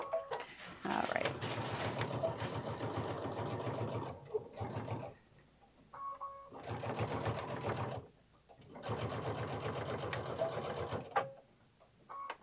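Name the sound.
sewing machine stitching, back stitching at the ends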